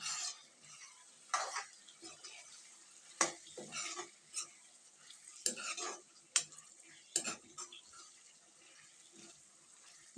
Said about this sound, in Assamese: এতিয়া ঢাকোনখন আঁতৰাই দিছোঁ। মাজে মাজে লৰাই থাকিব।